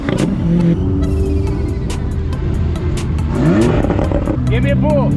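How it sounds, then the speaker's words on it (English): A McLaren 600LT supercar revs on the road during a spirited drive in Miami, its engine throbbing loudly with rising and falling rev sweeps heard from the cabin, with voices talking over it. "Give me a little rev."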